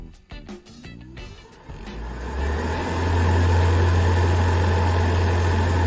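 A 12V air conditioner cooler driven through a speed controller starts up: faint clicks, then a motor hum rising and settling into a loud, steady droning whir close by.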